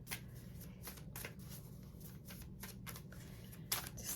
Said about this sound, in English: Just doing a little bit of shuffling.